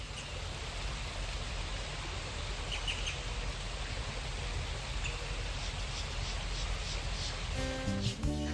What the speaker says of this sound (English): listening to the birds and waiting for the sun to rise